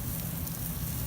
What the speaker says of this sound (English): See that? How they just sizzle.